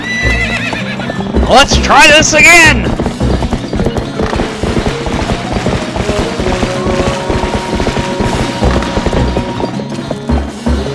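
Horse neighing and whinnying from the Legend of Zelda: Twilight Princess video game, a loud excited whinny early on followed by steady clip-clopping hooves and game music, with someone talking over it.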